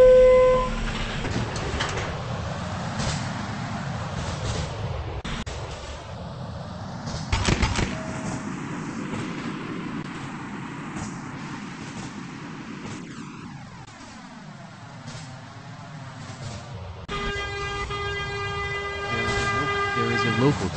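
A Roblox subway train rumbles out of a New York-style station, its low roar building and shifting pitch over twenty seconds, with a horn toot and tonal chimes near the end and a recorded announcement voice.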